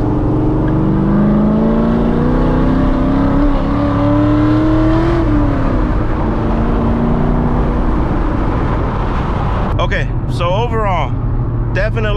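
A 500 HP C6 Corvette engine roars loudly and steadily as the car slides sideways, revs climbing and then dropping, with a brief burst of squealing tires near the end, heard from inside the car.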